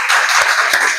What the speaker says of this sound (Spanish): damos un aplauso de bienvenida a todos